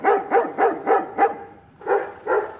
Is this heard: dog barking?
yes